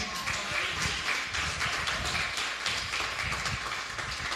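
A church congregation applauds with steady, continuous clapping that holds at an even level for a few seconds, fairly distant and diffuse.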